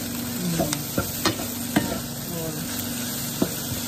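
Tocino vegetable fried rice stir-fried with rice in a pan, a soft continuous sizzle with scattered scraping stirs and light knocks of the utensil, fairly quiet and no talking.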